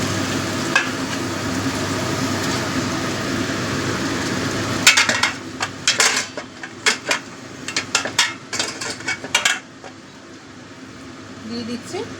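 Mustard pabda fish sizzling in a pan, a steady hiss that breaks into bursts of bubbling and clatter as hot water goes in, close and loud, with a voice speaking over it.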